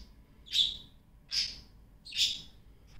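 A pet bird indoors gives three sharp, shrill chirps, evenly spaced about a second apart, close and clear against near silence.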